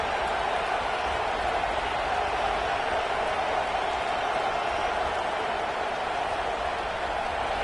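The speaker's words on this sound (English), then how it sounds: "This crowd ready to make its presence known." A football stadium crowd roars steadily throughout, a dense and continuous wash of cheering voices with no single voice standing out.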